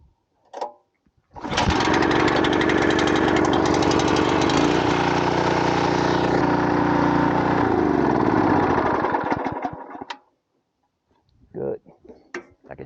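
A Champion tiller engine, choked and pull-started, catches after a brief rattle and roars loud and close at a steady run for about eight seconds, then winds down and cuts out.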